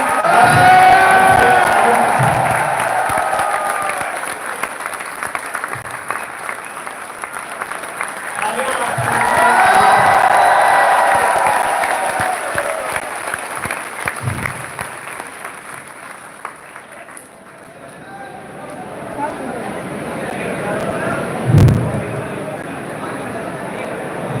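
Loud applause and cheering rise from a large crowd at a live motivational event in Hindi, swelling in two strong waves and then settling into quieter, scattered clapping, with a few shouts and a sharp thump near the end.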